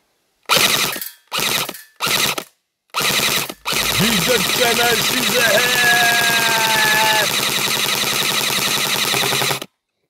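Gunfire aimed at a water bottle during a test among friends: four quick bursts of shots in a row, then a long continuous rattle of rapid fire with mechanical whine, loud and close.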